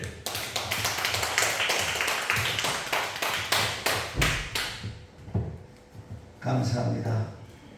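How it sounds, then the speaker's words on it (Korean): A church congregation at a worship service claps in praise, many hands striking in a fast rhythmic burst that swells and then trails off into scattered claps, followed by a brief murmur. "하나님께 영광의 박수를"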